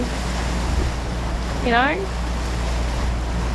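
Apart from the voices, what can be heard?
catamaran engines running at sea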